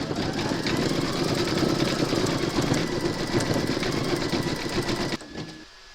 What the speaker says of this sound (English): Load your thread colour for the eyebrows into your machine, and then stitch round number 10.